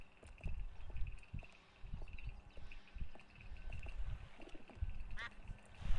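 Cartoon duck quacking in the adventure video game Escape from Monkey Island, a few short quacks mixed with game ambience and a narrating voice.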